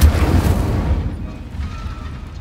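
The Incendio fire spell cast in Hogwarts Legacy, a deep whooshing boom with rumbling low energy that bursts at the start and then fades away over about two seconds.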